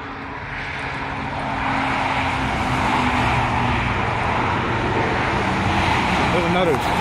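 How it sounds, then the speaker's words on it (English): Vehicle traffic on a road on a warm summer day, a broad steady roar that swells after the first couple of seconds and stays loud, with a person talking faintly underneath. "There's another truck."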